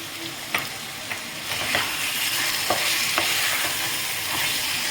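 Mutton masala with ginger is stirred and fried in a pan: a dense, continuous hiss of sizzling with intermittent scraping strokes of a spatula at a fairly regular pace, close and alone.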